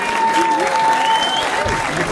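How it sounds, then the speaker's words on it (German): A concert audience applauds a string quartet, loud close clapping with a sustained tone and brief voices mixed in over a couple of seconds. "Dann möchte ich erstmal um einen Applaus bitten für unser Streichquartett"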